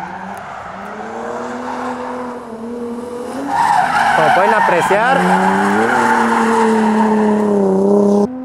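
A rear-wheel-drive Infiniti drift car at a drift event slides past with its engine droning, then rises into a loud, sustained tire squeal and skid. Someone talks over it in Spanish.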